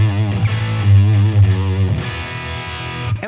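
Electric guitar run through a 50-watt amplifier into a Torpedo Captor X load box, giving a thick, sustained distorted chord that rings for about two seconds before shifting to a brighter, thinner tone, with no talking.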